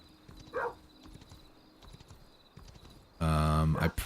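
Rhythmic clip-clopping hoofbeats of a giant pig mount in the video game Kingdom: Norselands, soft and repeated under quiet game ambience, ending with a loud sustained tonal game sound.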